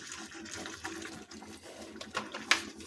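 Water poured into a pan of snakehead fish curry with potatoes, a close splashing, running pour lasting a few seconds with a sharper splash near the end.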